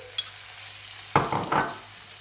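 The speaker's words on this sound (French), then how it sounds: "Maintenant, je vais ajouter la tomate fraîche" Fresh tomato drops into a hot pan of fish curry base, giving a sudden loud sizzle burst followed by a second surge of frying hiss, close and with no talk.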